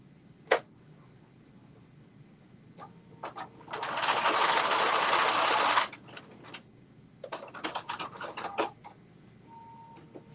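A sewing machine stitches a seam in very lightweight fabric for a Carmen top, running in one steady, close two-second burst, with scattered clicks and handling of the fabric before and after.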